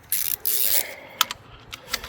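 A ratchet wrench loosening a bolt on a 2012 Seat Altea during water pump replacement, heard as close bursts of rapid clicking followed by a few sharp metallic ticks and clacks, with no talking.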